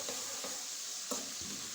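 Rice frying and being stirred in a hot pan before jaggery is added, a soft continuous sizzle broken by a few short scraping stirs, close and fairly quiet.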